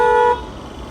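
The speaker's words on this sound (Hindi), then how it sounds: "हॉर्न सिर में दर्द कर देते हैं" A single short car horn honk sounds loudly, then cuts off, leaving low traffic rumble.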